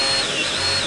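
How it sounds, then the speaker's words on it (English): Power drill boring an air hole into the bottom of a wooden pipe bowl, a brief, steady whirring grind heard close up on its own. "you can drill that right into the bottom of the bowl"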